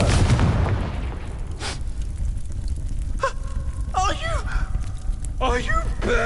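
A Confringo spell explodes in Hogwarts Legacy with a loud low boom at the outset that rumbles away, while in-game voices cry out afterward over continued ambience.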